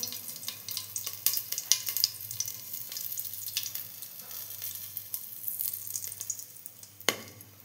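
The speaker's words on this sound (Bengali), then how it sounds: "তেলটা গরম হয়ে গেছে, জিরে ফোড়ন করে নেব, আর গরম মশলা ফোড়ন দেব।" Cumin seeds and whole garam masala crackle in hot oil, a close, uneven sizzle with scattered sharp pops and stirring clatter, including one louder knock near the end.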